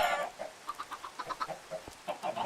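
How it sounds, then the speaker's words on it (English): Chickens in a Minecraft-style survival server game cluck in a quick series of short, clear calls, about a dozen bursts in steady rhythm at close range, with no talking. "Hello, chickens."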